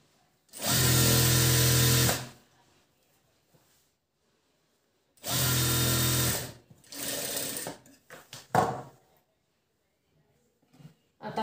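A sewing machine stitches a blouse in two loud, steady runs of about one and a half seconds each, separated by quiet, followed by some faint handling clatter.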